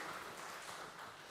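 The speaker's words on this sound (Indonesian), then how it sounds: "Tepuk tangan, tetap berdiri." Church congregation applauding while standing to honour members celebrating birthdays at a Sunday service, a steady dense wash of clapping filling the whole moment without any voice over it.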